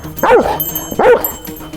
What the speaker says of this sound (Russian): Страшно лает.